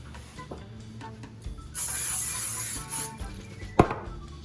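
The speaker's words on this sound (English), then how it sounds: "First things first is to spray your pan" Cooking spray hisses steadily onto a pan for over a second, followed by a sharp clack, with faint kitchen clatter around it.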